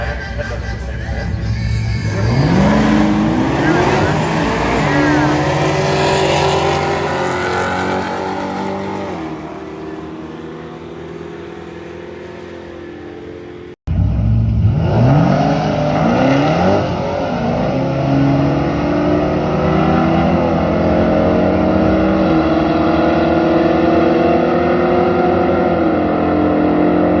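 An LS-swapped E39 BMW wagon launches at a drag strip against another car, engines roaring loud and rising through gears, fading with distance, then a second hard launch roars up again close by.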